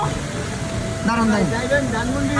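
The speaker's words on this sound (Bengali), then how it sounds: "খুবই জোরে বৃষ্টি হচ্ছে এখন।" Heavy rain pours steadily in an outdoor street setting, a continuous broadband hiss running throughout while people talk over it in the foreground.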